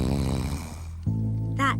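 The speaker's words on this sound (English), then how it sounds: "All I can hear is Slugsy snoring in the hammock." A cartoon character snores loudly in a hammock, with one drawn-out rasping inhale followed by a buzzing, whistling exhale, close and alone.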